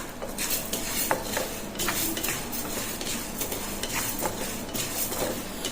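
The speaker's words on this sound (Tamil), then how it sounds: "இந்த உளுத்தம் பருப்பை நல்லா பொன்னிறமாக வறுத்து எடுத்துக்கலாம் கருகாமே வறுக்கணுங்க" Urad dal being dry-roasted in a pan: a spoon scrapes and clinks against the metal in a steady stirring rhythm, with the light rustle of lentils moving and a faint sizzle.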